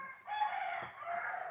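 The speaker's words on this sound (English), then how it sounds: "These roosters are telling all these Filipinos it's time to get up" Roosters crowing in the Philippines before sunrise, one long drawn-out crow heard fairly close and loud, alone without talk.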